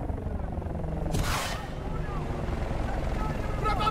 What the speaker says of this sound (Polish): Śmigłowce wroga!